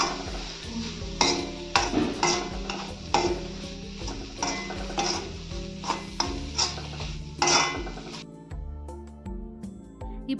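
A spoon stirs fried bitter gourd rice in a pan, scraping and clinking against the metal in a steady rhythm of strokes over a faint sizzle, close up and without talk.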